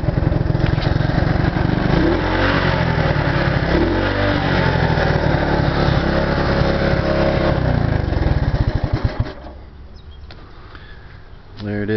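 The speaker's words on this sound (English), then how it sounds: "Long live the Honda ATC three-wheelers." 1970 Honda ATC three-wheeler with its small engine revving up and down in loud, rising and falling bursts close by, then dropping to a lower idle, with a voice talking over it.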